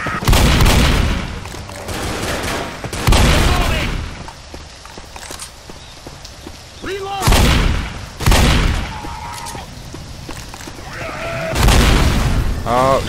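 Several heavy in-game explosions boom in the Left 4 Dead No Mercy campaign, sewer and hospital stages, loud broadband bursts spaced a few seconds apart, with a player's voice talking between them.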